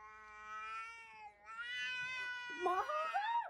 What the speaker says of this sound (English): She came home after petting a cat that her cat absolutely hates.